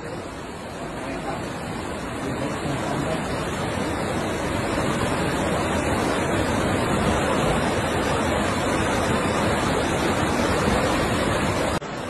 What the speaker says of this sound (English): The sheer depth and force of the water carried at least 2 shipping containers down the main street.